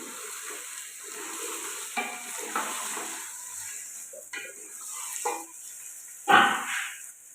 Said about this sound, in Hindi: वक्फे से हिलाते जाएंगे। जब ये चिकन गल जाएगा अच्छी तरह इसको भून लेंगे।